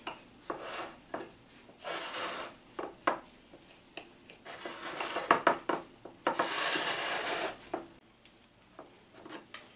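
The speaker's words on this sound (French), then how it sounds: "quand notre chocolat est bien fondu, on va l'incorporer dans nos crêpes gavotte. Puis on vient mélanger." Melted chocolate being stirred into crushed crêpes gavotte in a bowl, irregular scraping and rubbing strokes with crisp crunchy rustles and light utensil knocks, close and uneven in rhythm, with no voices.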